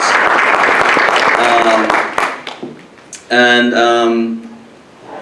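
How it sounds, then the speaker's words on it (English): A conference crowd at a health innovation closing session applauds volunteers with full, busy clapping that fades after a few seconds, followed by a person speaking up close. "Let's give a round of applause for our volunteers."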